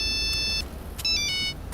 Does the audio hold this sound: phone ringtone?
yes